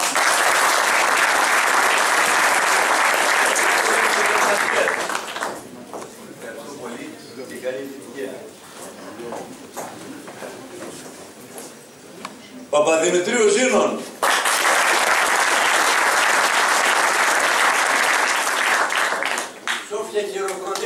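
An audience breaks into loud, sustained applause in two long waves of dense clapping, with someone speaking into a microphone in the quieter stretch between them.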